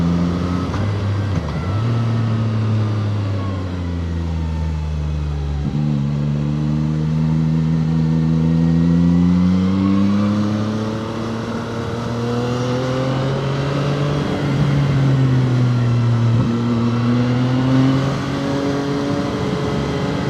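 A Zontes 703R motorcycle engine revs steadily while riding on twisty roads, its tone rising and falling through gear changes and throttle swells, loud and close with no talk.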